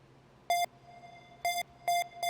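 Synthesized pluck notes from a Sylenth synthesizer with reverb on, four short bright tonal hits with a faint sustained tail, the last three in quicker succession, played alone.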